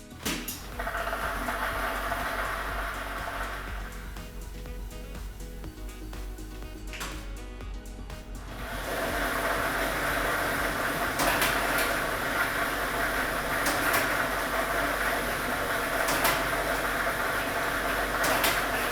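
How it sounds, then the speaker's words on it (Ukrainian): A lottery ball drawing machine switched on, a mechanical whirr and clatter rising into a loud steady rumble of tumbling balls with occasional sharper knocks. "Тиражна комісія до початку гри довільно обрала лототрон А комплект кульок номер 4 і ми вмикаємо вмикаємо лототрон"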